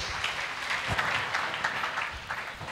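Church congregation clapping in praise, a continuous patter of many hands at moderate volume, steady with slight swells and no talk over it.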